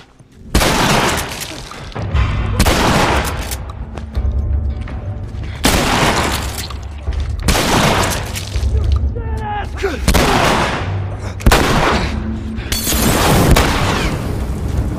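Loud, repeated heavy blasts from a shotgun in The Last of Us Remastered, a survival action video game, booming in bursts every second or two with shouting and game chatter layered between the shots.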